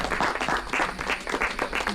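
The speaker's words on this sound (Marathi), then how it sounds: "याचा टाळ्या झाल्या पाहिजे परत" An audience at a classmates' get-together celebration applauding, a dense burst of many hands clapping together, loud and continuous throughout.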